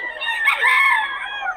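A rooster crows loudly and close by at a rooster market in Bocaue, one long drawn-out call with a rising, wavering middle, heard alone without talk.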